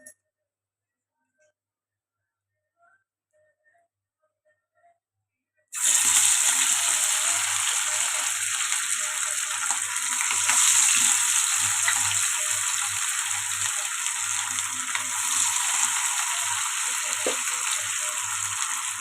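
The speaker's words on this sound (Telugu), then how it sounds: "కలాయి పెట్టుకొని ఆయిల్ అయితే వేడైంది ఫిష్ ఫ్రై అయితే చేసుకున్నాం" Gulivindalu fish fries in hot oil in a kadai, a loud, continuous hiss and crackle that starts abruptly after several seconds of near silence and then holds steady without pause.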